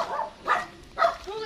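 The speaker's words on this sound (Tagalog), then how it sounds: "Ayan, ang daming aso" Several barks from dogs at a house in a mountain area, heard in the mid-distance as three short voiced bursts about half a second apart.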